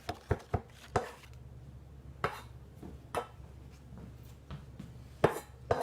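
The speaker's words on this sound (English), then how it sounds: "get that minced up pretty fine" Vegetables minced finely with a knife on a board, a series of crisp, irregular chopping taps, some in quick clusters and others spaced apart, close and clear over a quiet background with no speech.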